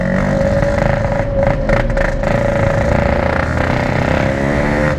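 Yamaha RX King two-stroke motorcycle engine running in slow traffic, a loud, steady, raspy rev with crackling exhaust and a held tone, close up and continuous with no talk.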